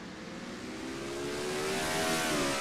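Engine of a Cup race car in a sim racing game on the St. Pete street circuit, droning steadily with a rising pitch as it accelerates, fairly loud and continuous with no talk.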